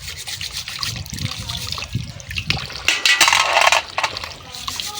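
Water is poured over snails to clean them, giving a splashing, trickling rush with a louder, fuller gush partway through before it settles back to a gentle dribble.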